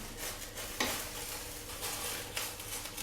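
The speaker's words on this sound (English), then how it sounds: "We are going to fry the eggs to make a kind of an omelette, but not roll it" Eggs frying in a pan for a Korean gimbap omelette, a steady close sizzle with a couple of brief utensil clicks against the pan.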